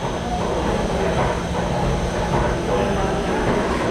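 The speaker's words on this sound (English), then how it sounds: "So this is the motor we are using. So we are using belt drive over here" A wooden cold press oil machine runs with its motor driving belt and gear drives, making a loud, steady mechanical rumble and whir that continues evenly without pause.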